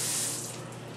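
Water runs steadily from a kitchen tap as hands are washed mid-way through cooking bacon and eggs, a close, continuous splashing hiss that fills the whole second and eases slightly toward the end.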